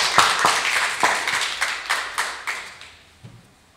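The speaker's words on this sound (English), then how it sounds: "I think they deserve a round of applause" A brief round of clapping from a small group, starting brisk and thinning out over a few seconds into a few last claps.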